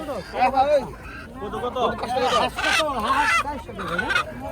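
A duck quacking and honking at a riverside morning market, several loud nasal calls in bursts close by, with people talking and haggling over it.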